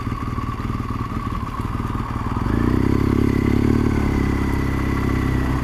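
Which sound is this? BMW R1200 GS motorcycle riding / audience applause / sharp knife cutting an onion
BMW R1200 GS motorcycle riding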